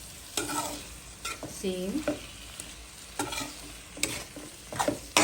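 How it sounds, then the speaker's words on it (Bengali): Vegetables stir-fried in a pan for a mixed vegetable dish with radish, potato and dried fish, giving a steady close sizzle broken by repeated scraping strokes of a stirring spoon, with a brief spoken word. "একটু একটু ভেজে নিই, একটু কষিয়ে নিই।"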